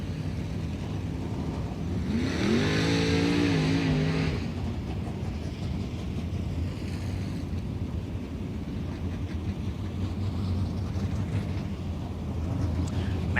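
Matt Miller's Sherman Enterprises number 65 dirt race car roars at Volusia Speedway Park, its engine note swelling and rising as it passes, then blending back into the steady din of other cars on the track.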